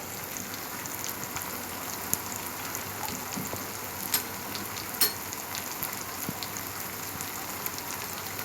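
Surma fish curry with fresh tomato sautéing in a pan, a steady close sizzle and crackle of frying with occasional sharper pops and stirring.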